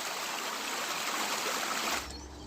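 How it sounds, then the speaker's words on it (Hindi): Stream water from a hillside channel pours into a lake in rural Rwanda, a steady, loud rushing flow close by that holds evenly before softening near the end, with no voices. "ये ऊपर नाले से जो पानी आ रहा था, ये अभी झील में दाखिल हो रहा है।"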